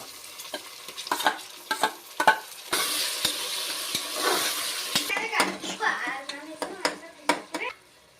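Onion and tomato hit a hot oiled pan for vegetable pulao, bursting into a loud sizzle followed by repeated scraping stirs and clinks of a spoon against the pan.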